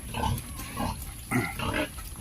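Several piglets grunting and oinking in short bursts, close by, with a faint background hum.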